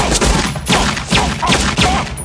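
Rapid bursts of gunfire in a film scene, several loud volleys in an uneven rhythm that fill the short stretch.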